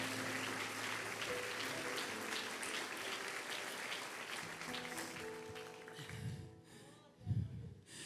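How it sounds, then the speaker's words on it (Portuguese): A church congregation claps together through most of the stretch in a sustained, broad burst of applause. Sustained voice or musical tones run underneath, and the clapping thins out near the end. "Aplauda dando glória a Deus,"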